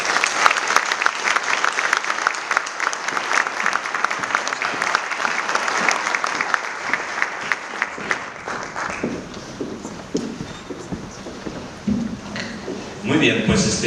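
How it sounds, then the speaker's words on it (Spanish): Audience applause fills a conference hall after a talk on trade policy and tariffs, a dense steady clapping that thins out toward the end as a voice begins speaking over the last scattered claps. "Un aplauso,"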